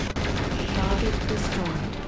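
Gunfire from the MechWarrior 4 video game, a dense sustained burst of rapid shots running continuously at steady, fairly loud level for the whole stretch.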